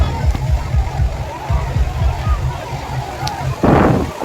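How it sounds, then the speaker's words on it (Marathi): Water pours down onto people at a water park in Kolhapur, a rumbling, pulsing rush that ends in a louder splash near the end, with voices mixed in. "हे बघा कसं डोक्यावर पाणी पडतंय, कसं छान दिसतंय."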